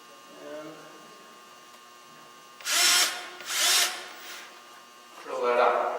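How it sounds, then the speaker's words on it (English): A power drill whirs in three loud bursts, each lasting about half a second, with a pause between them. Faint low voices or room sound fill the quiet stretches. "drill that out."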